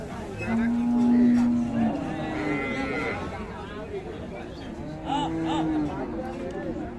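A cow moos at a busy cattle market where cows are sold with calves, giving long low calls over steady crowd chatter and nearby talking.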